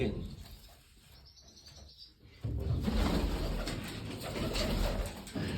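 Pigeons coo repeatedly at close range, a soft rolling call that continues alongside rustling and light background noise, with a louder, busier stretch in the second half.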